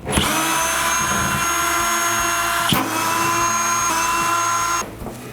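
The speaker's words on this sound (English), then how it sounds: "take your drill and let's take this bracket off" Cordless power drill whirring steadily as it backs the screws out of a bracket on an illegal electrical box for a vanity light, loud and close, with a brief pause near the middle and a stop just before the end.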